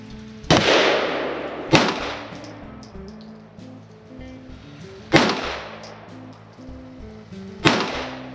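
Four sharp gunshots from a pistol fitted with a FLUX Raider X brace, fired at a target at irregular intervals, each a loud crack with a short decaying tail over a faint background hum.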